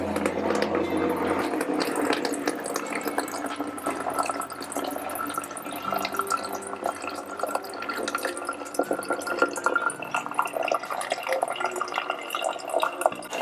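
Spring water pours into a bottle with a steady, continuous rush and trickle that stays fairly loud throughout, with faint voices in the background.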